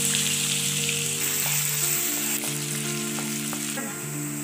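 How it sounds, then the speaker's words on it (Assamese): Onions frying in a pan until golden for a Bengali-style pork biryani, giving a steady, close sizzle with light scraping and stirring and a low hum underneath. "এই পিঁয়াজখিনিহঁত ৰঙচুৱাকৈ ভাজি ল'ম।"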